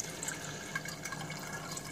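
Salt water drips steadily through a filter into a jug, a continuous trickle with scattered soft drip ticks, close and moderately quiet.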